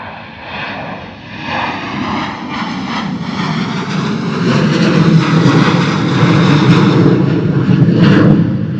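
A Ryanair jet takes off low and loud at Bristol Airport on an early morning in a crosswind, climbing into cloud. Its engine roar is close and builds steadily, growing louder toward the end.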